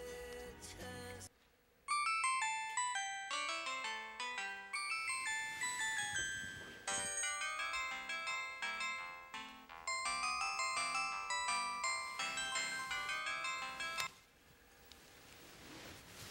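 Phone ringtone playing a bright melodic tune of repeated chiming notes, loud and clear across the whole stretch with brief pauses between phrases, no talk over it.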